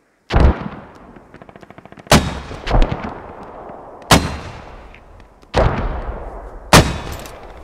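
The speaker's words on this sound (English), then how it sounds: "Were there an enemy mortar?" Heavy mortar rounds impacting in the military shooter Squad: five loud, booming blasts spaced about two seconds apart, each with a long rumbling decay, with faint rapid gunfire crackling between the first two.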